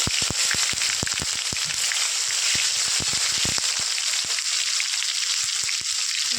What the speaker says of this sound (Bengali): দুটো শুকনো লঙ্কা ফোড়ন দেব, টমেটো কুচিগুলো দিয়ে দেবো